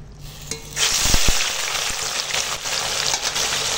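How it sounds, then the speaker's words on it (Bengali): Catla fish swim bladder fries in hot oil in a wok, a steady close sizzle that swells after a quiet start and keeps crackling with a few sharp pops. "এখন এই তেল পটকাটা ভাজবো, তো তার জন্য কড়াই তেল দিয়ে দিয়েছি।"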